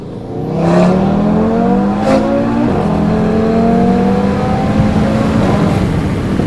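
Loud, close car engine accelerating hard, its pitch climbing through several gear changes in a sustained revving roar.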